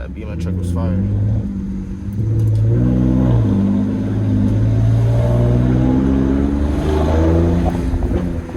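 A BMW N54 engine fitted with velocity stacks revs hard from inside the car, deep rising and falling engine tones in repeated pulls with a brief drop between, wind noise around it.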